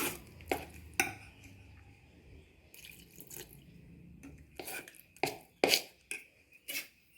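A spoon stirs banana cake batter in a bowl as milk is added a little at a time, giving soft scraping swirls with several sharp clinks of utensil against the bowl, close and fairly quiet.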